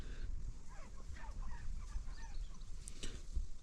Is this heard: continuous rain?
no